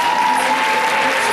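Audience applause fills a hall at an award ceremony, a dense steady wash of clapping held at even loudness throughout, with no voices rising above it.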